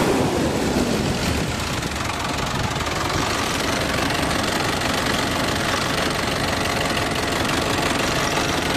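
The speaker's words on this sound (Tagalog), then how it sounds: "Revolve lang muna natin. I-revolution natin para malaman natin kung may tulo pa ba." A Mitsubishi 4M50 diesel engine runs loud and close after a fuel line repair on its common rail, a dense continuous rumble with a knocking clatter that holds steady throughout with no talk.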